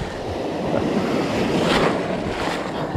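Surf breaking along a Gulf shore in Naples, Florida, after Hurricane Idalia, a steady full-band wash of rushing water with wind buffeting the microphone, two brighter surges swelling midway and near the end.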